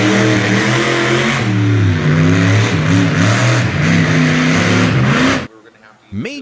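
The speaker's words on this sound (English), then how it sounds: "This is Major Payne, a blown alcohol hot rod built on a military tank chassis." A blown alcohol hot rod built on a military tank chassis revs hard and loud for several seconds with rising and falling engine pitch, then cuts off abruptly into near silence with a brief faint rumble at the end.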